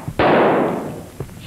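A single gunshot rings out during shooting practice in a 1951 Hindi film, a sharp loud crack followed by a rolling echo that fades over about a second.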